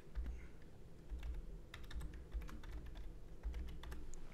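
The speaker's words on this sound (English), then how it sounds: "y'all can hear literally everything I'm typing" Fingers type on a computer keyboard in a quiet room, giving a soft, irregular stream of close, light key clicks with brief pauses.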